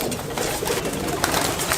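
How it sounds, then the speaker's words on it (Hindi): Malwai pigeons at Ustad Ajay Chaudhary's loft coo softly amid dense, steady background noise, with occasional wing flaps. "और ये है ये कबूतर"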